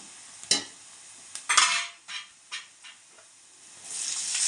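Onions sauté in a pan for a dried-fish curry, with a faint sizzle broken by several sharp scrapes and clinks of a spoon stirring against the pan, close and uneven.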